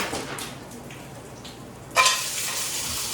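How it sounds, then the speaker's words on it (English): Garlic hits a hot pan for oyster chowder, giving a soft, steady sizzle with a sudden louder burst of frying about two seconds in. "In the pan is going to go my garlic. That's a nice sound."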